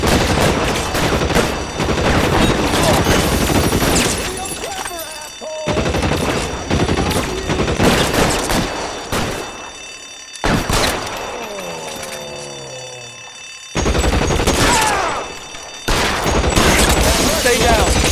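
Gunfire in the video game L.A. Noire, dense loud fusillades of rapid machine-gun and rifle shots in bursts separated by short pauses, with a voice speaking between volleys.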